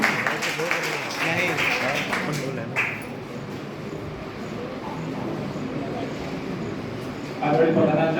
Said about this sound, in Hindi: एक बार तालियां हो जाए बच्चों की तरफ से सबके तरफ